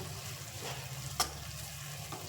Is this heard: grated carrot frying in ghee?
yes